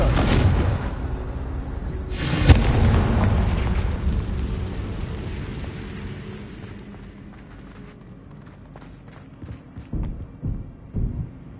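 Confringo blasting spells explode in the Hogwarts Legacy game, a loud booming blast followed by a rumbling fade and several smaller crackling bursts near the end.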